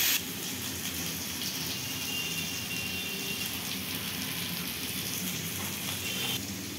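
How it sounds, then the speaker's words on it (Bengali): Water pours into a pan of potatoes cooking for alur chorchori, giving a steady close splashing hiss that runs evenly for several seconds and then eases off. "এখন আমি একটু জল দিয়ে দেবো"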